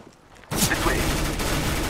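Gunfire in CS:GO, silence broken abruptly by a loud burst of rapid automatic shots that continues as sustained fire, with a voice speaking briefly amid it.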